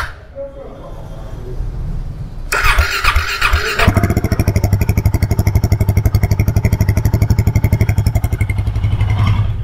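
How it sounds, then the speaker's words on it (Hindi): A Royal Enfield Himalayan 452 motorcycle engine fires up, then settles into a loud, steady idle of rapid, even thumping exhaust pulses, with a voice heard briefly beforehand. "तो कुछ ये है बाइक का एग्जॉस्ट नोट, बहुत अच्छा थंप आ रहा है इसमें"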